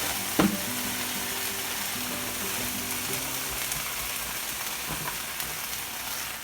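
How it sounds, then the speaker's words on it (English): Onions frying in a pan, heard as a steady close sizzle with faint crackles and a soft clink or stir near the start, moderately quiet and with no talking. "In my pan, I'm going to add some onions."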